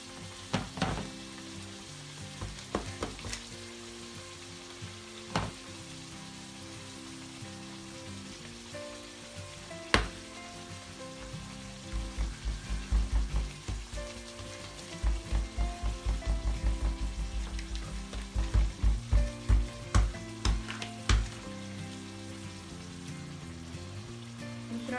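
Kombdi vade, Marathi fried bread, frying in hot oil: a continuous crackling sizzle with sharp pops and bursts of bubbling as pieces are turned and lifted, close by with no voices.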